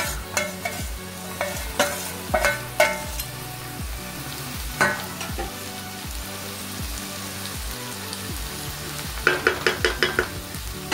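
A steady hiss of frying runs underneath as small fish fry over potatoes in a kadai, while a utensil knocks and scrapes in a rhythmic series of taps, with a quick cluster near the end.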